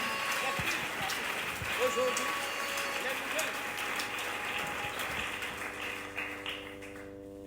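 Church congregation at a special worship service applauding, a dense rattling clatter of many hands mixed with voices and tonal sounds throughout, fading toward the end.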